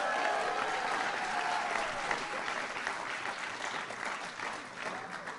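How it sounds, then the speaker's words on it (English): A crowd at a White House event honoring the LA Kings and LA Galaxy claps steadily for several seconds, a dense, even wash of applause heard from a distance, fairly quiet. "Let's give it up for the Stanley Cup champion LA Kings."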